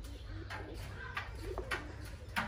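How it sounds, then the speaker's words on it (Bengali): Pigeons on a village house roof give soft, repeated coos among faint background rustle, quiet and somewhat distant, with brief louder bursts scattered through. "অনেক কবুতর"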